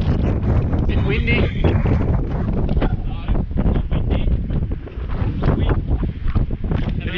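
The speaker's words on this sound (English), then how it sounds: "Windy." Strong wind buffets the microphone aboard a lobster fishing boat at sea, a steady loud roar with gusts throughout and the rumble of the boat underneath.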